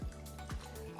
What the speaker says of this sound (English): I'm going to add a 4th cup of distilled water.